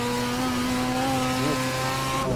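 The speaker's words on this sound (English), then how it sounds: "Assetto Corsa probably has some of the best" A car engine revs hard in the racing game Assetto Corsa, holding a steady, buzzing high-rpm drone near the rev limiter with a slight wobble in pitch, loud and without talk.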